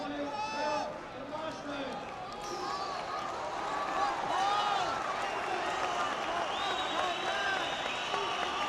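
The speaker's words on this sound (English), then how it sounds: "Big cheer from the crowd" A boxing arena crowd during the Paul Appleby vs Joseph Laryea fight, with a sustained roar of cheering and clapping under a commentator's voice and whistle-like tones.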